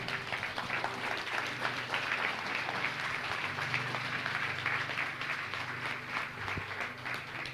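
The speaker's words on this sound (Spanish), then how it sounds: "Denle un fuerte aplauso al Señor." A church congregation at a Sunday service claps loudly and continuously, a thick, even wash of applause that fills the room from start to finish with no talk over it.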